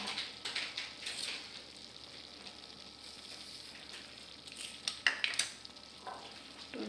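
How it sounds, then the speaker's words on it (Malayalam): A spoon stirs a pan of cooked nendran banana, sago and sugar, scraping close and steadily with a soft sizzle underneath and a few sharper clinks near the end. "ഇതൊന്ന് നന്നായിട്ട് ഇളക്കി കൊടുക്കാം"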